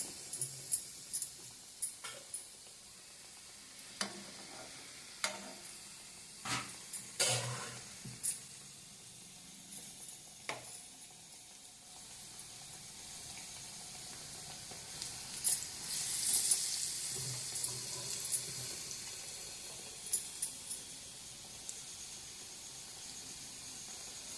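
Vadas sizzle faintly in hot oil in a pan, with a soft steady frying hiss broken by scattered crackles and small clicks that swell briefly partway through.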